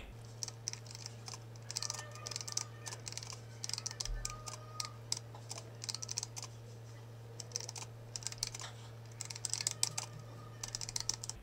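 Steady, fast clicking of keys on a computer keyboard as someone types a line of code, close and alone over a faint low electrical hum, with no talking.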